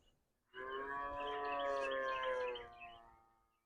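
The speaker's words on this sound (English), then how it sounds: "All the birds chirping, calves crying, cows chewing their cud." A single drawn-out moo from a cow, clear and fairly close, lasting a few seconds before trailing off.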